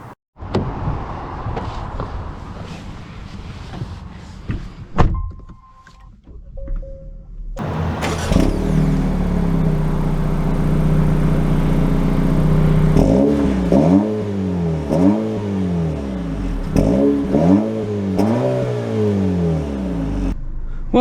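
A 2024 Acura Integra with an automatic transmission starts up and pulls away, its engine revving through rising, falling sweeps under steady road noise, loud and close, with a door-like knock early on.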